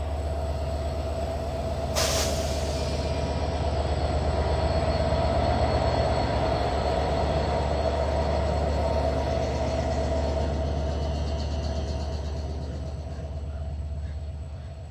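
Panchagarh Express train pulling out of a station, a steady loud rumble of wheels and carriages with rhythmic rail clatter, a brief sharp hiss or squeal near the start, then the noise slowly easing.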